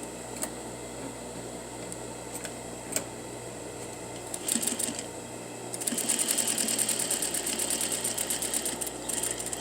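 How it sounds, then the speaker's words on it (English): A sewing machine edge stitches along the fold of a pocket hem, starting with a few isolated clicks and then running as a steady, close mechanical whir. "So we're going to edge stitch right here on the fold."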